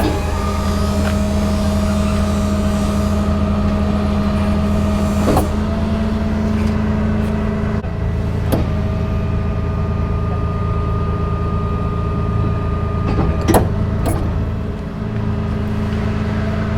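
A 2019 Ram 5500 Versalift utility bucket truck idles steadily with its PTO engaged, a constant low engine drone with tonal hum while the A-frame outriggers behind the cab shift, adding brief clunks and a slight pitch change midway.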